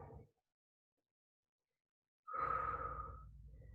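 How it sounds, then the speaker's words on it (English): Deep breathing during a stretch: one short breath, then a long silence, then a long, audible exhale close to the listener. "A couple of nice deep breaths."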